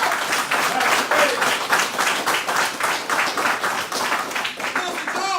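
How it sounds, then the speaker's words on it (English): An audience applauds Minister John with dense, continuous clapping that holds steady and loud for several seconds, filling the room without a break. "Let's give him a round of applause"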